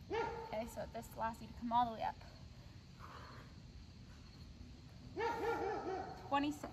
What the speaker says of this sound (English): If you hear that dog barking, that's my neighbors.